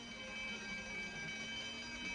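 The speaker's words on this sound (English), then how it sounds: "It's a signal that enemy ships have been sighted. It's an alarm signal." A steady electronic alarm tone, warning that enemy ships have been sighted in an old science-fiction serial, hums continuously at low volume with a faint buzzing edge and no voices.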